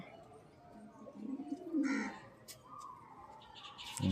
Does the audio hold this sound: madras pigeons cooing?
yes